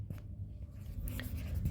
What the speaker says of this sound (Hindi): लिख दूँ एक बार